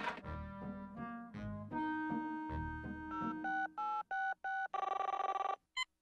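A telephone in a Woody Woodpecker cartoon rings in a series of short, evenly spaced electronic bursts over background cartoon music, loud and close, ending in a final brief ring.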